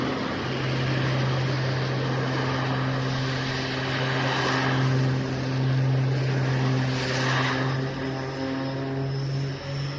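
An aerobatic propeller plane hovering and torque rolling at a seaside air festival drones with a steady, loud engine and propeller hum that swells and fades slightly over ten seconds, with no speech.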